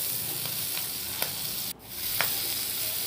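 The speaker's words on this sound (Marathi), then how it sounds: "मिरची आणि लसूण छान तेलामध्ये भाजला किंवा तळलाही जातो" Green chilies and garlic fry in oil over a low flame, giving a steady close sizzle broken by a few soft stirring taps and one brief scrape.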